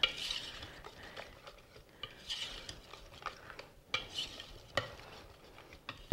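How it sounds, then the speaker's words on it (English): Utensil stirring Belgian waffle batter in a mixing bowl, a steady run of scraping, clinking strokes with several louder knocks against the bowl, close and alone without talk. "we're going to stir this and mix it till it's pretty well mixed"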